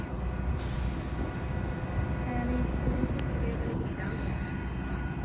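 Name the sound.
F-59 locomotive train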